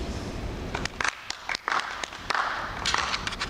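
A small audience claps in short scattered bursts at a talk about living with migraines, several separate rounds of applause spread across a quiet room.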